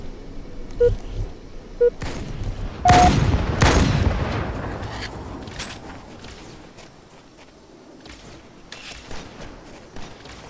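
Sniper rifle fire in the video game Halo Online: a couple of sharp, loud cracks around the middle with booming tails, followed by quieter scattered clicks and in-game noise.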